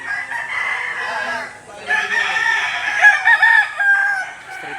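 A rooster crows repeatedly at a livestock auction market in Lipa, Batangas: close, loud, drawn-out crows with clucking between them and faint background chatter.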